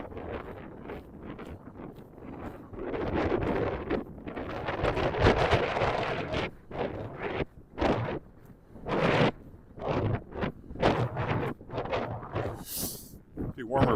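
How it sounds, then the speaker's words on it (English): Wind gusting across the microphone on a winter creek walk in Regina, a loud roaring buffet that swells and drops in uneven bursts while someone talks over it. "the wind's blowing from the northwest, it feels like."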